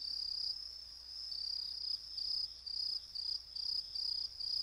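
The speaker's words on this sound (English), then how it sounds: "It's grasshoppers. You can hear them on a quiet night." A steady, high-pitched grasshopper trill pulses in short repeated bursts against a very quiet night background.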